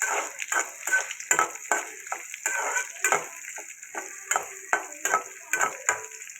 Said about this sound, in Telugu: ఇప్పుడు దీన్ని ఉల్లిపాయ పచ్చడికాయలు తాలింపు గింజలు వేసుకొని వేపుకుంటున్నాను.